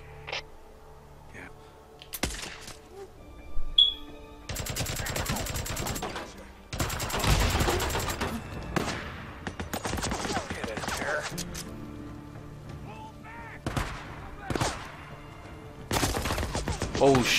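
Bursts of automatic gunfire in Days Gone, sharp loud volleys in irregular clusters separated by quieter gaps, with a player talking in between.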